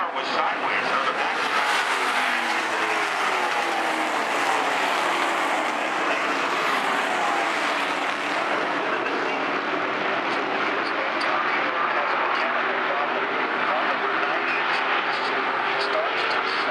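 Late model stock cars race around Stafford Speedway, a dense, continuous engine roar with shifting pitch as cars pass, steady and loud throughout with a commentator talking over it.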